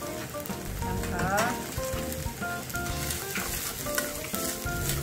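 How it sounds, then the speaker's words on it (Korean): Onion and shiitake mushroom stir-fried over high heat in a Chinese-style pan: loud continuous sizzling with scraping stirs throughout. "센 불에서 재빠르게 볶으셔야 돼요."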